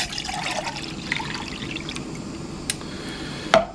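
Water trickles and pours into a metal canteen cup, a light splashing fill near the mic that fades out, followed by a couple of sharp clinks.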